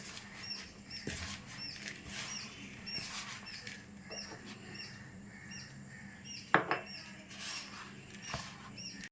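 Semolina and flour biscuit dough is worked by hand in a bowl, giving faint, soft, irregular pats and squelches up close in a quiet room, with no talking.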